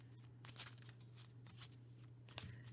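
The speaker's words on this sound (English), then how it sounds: "So just be thinking about your first yes/no question as I just shuffle the cards." A deck of playing cards being shuffled by hand, with several soft riffling bursts and light flicks over a steady low hum, close and fairly quiet.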